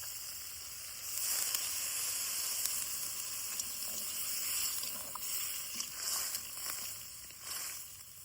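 Water poured into a hot pan of water lily stems and snails sets off a steady, broad sizzle that stays fairly loud throughout, with a few small crackles and pops.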